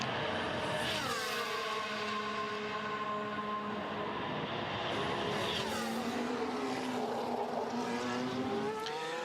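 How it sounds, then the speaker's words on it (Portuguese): A Mercedes Formula 1 car passes on the straight during Bahrain practice, its high-revving engine whining loudly with rising and falling pitch as it sweeps by and gear changes follow. "o carro da Mercedes passando na reta ali, a poeira subindo"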